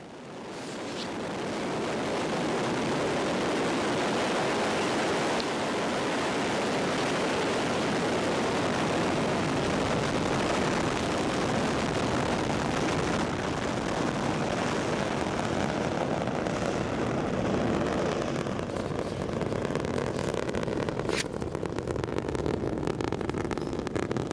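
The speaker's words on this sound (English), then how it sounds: "We can see some dramatic pictures here as it prepares to blast off." A Soyuz-FG rocket launches from Baikonur, building into a continuous, heavy roaring rumble that stays loud and broad throughout, without speech.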